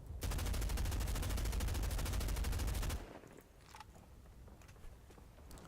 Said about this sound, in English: I'll start out with the M16 right here, and I'll fire it at the wall to show you all the recoil.